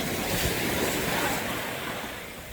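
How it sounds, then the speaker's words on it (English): Ocean surf at Nusa Lembongan washes in as a steady broadband roar, with wind buffeting the microphone throughout and no voices. "love the sound of the ocean."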